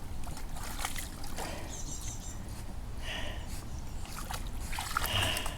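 A dog named Grom swims and splashes through water outdoors, with steady sloshing and a few sharper splashes over a continuous watery wash, fairly close and with no talk.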